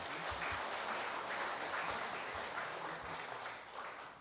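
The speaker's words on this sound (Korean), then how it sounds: "한 박수 한번 쳐주시죠" Faint, distant applause from a congregation for a two-member choir at a temple service in Gwangju, a steady patter of many hands with no talking.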